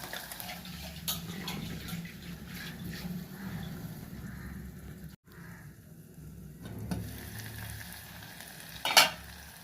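Ginger garlic paste frying with green chillies and tomato pieces in a pan, a steady soft sizzle with occasional stirring scrapes and a brief louder clatter near the end.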